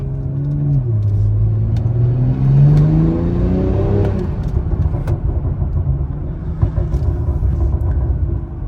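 A 2020 BMW M340i with a Stage 2 tune accelerates hard under a bridge, its engine rising in pitch through a gear change before settling into a loud, rumbling drone nearby.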